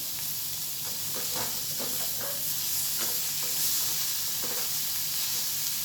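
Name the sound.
stirring bitter gourd frying in a pan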